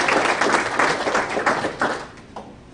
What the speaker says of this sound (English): without further ado, a big round of applause